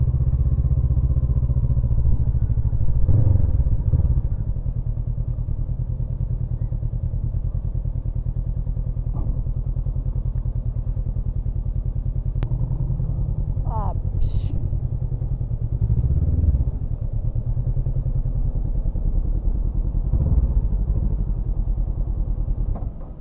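A Honda CB500X motorcycle engine chugs steadily close by throughout, a low droning rumble with occasional revs, while voices talk faintly in the background.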